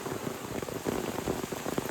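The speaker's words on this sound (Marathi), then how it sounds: "पाऊस बघा किती जोरात चालू झालाय" Heavy monsoon rain pours down steadily in a dense, hissing patter that continues without a break.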